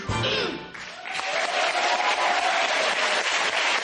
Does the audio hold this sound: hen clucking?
no